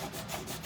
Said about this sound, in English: So I'm just scraping as much of that off the surface as I can